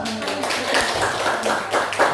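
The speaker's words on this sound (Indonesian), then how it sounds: "tepuk dulu" Students in an Indonesian religious-studies lesson clap in a continuous, fairly loud patter of many hands, with faint voices underneath.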